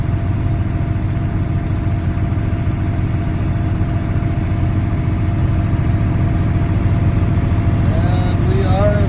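A John Deere 9320 tractor idling beside a Nuhn liquid manure tank: a steady, loud low diesel rumble throughout, close by, with a brief higher squeal near the end.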